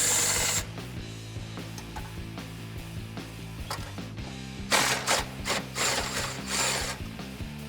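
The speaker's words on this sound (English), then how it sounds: "using a 13mm socket, I'm going to remove this bolt here on this part of the hanger" Ratchet with a 13mm socket working loose an exhaust hanger bolt on a 2011-2014 Mustang GT axle-back, giving clicking, scraping mechanical bursts that grow louder near the end.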